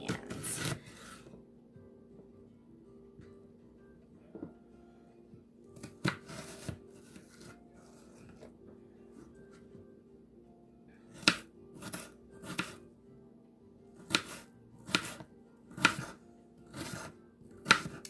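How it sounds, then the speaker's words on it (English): A knife chops onions on a cutting board in quiet, sparse bursts: a few quick strikes at the start, a cluster around the middle, then a run of sharp, evenly spaced chops near the end, close and without talk. "Cut our onions."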